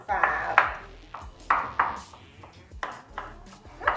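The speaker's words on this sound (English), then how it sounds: "Don't you love the way it sounds when a knife hits a wooden chopping board?" A knife chops on a wooden chopping board with about eight sharp, close knocks at an uneven pace, each cut ringing briefly before the next.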